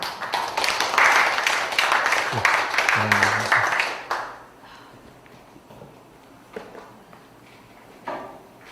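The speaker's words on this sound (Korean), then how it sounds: "우리 유정호 박사님 나오실 적에 큰 박수로 받아주십시오" A burst of clapping from a lecture audience for about four seconds, then it fades to quiet room noise with a few scattered sounds.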